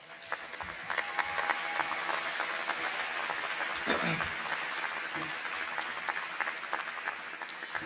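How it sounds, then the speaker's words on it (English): Audience applause for a student walking to the stage at a university convocation, a steady wash of clapping across a large hall that holds for several seconds, with a brief louder burst partway through. "let's give her a round of applause"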